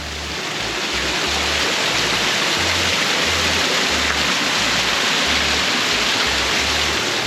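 Heavy water rushing and pouring steadily toward a mill's water wheel, which runs the mill machinery and has sprung leaks, after recent rain; a loud, continuous broadband roar close by, with no voices.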